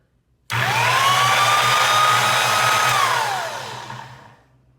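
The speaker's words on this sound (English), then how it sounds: "Give it a test fire." A vintage Skilsaw 825 circular saw, clamped down after reassembly, starts abruptly, spins up to a loud steady whine with a rising tone, then shuts off and winds down over about two seconds.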